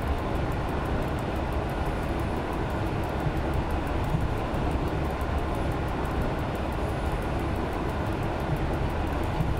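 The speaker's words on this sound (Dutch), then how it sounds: "hoe cool is dit treintje?" A train in the SimRail rail simulator rumbles along steadily with a dense, continuous roar and faint regular clicking on top, no voices present.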